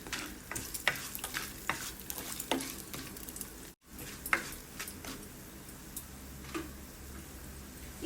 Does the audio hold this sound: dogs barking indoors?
no